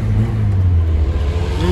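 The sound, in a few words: Doğan SLX car engine revving through exhaust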